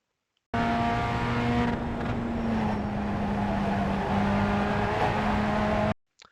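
Pontiac Solstice race car engine in the iRacing simulator on the Charlotte Roval, a loud sustained engine drone held on throttle with slight pitch shifts, steady throughout before cutting off abruptly.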